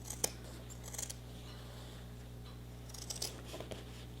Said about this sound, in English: So cut it as close to the seam as possible.